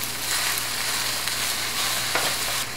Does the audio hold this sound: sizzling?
yes